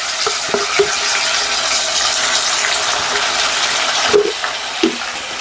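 Ginger garlic paste frying in oil in a pan for a restaurant-style chicken curry, a steady close sizzle broken by a few sharp stirring clinks of a spoon against the pan.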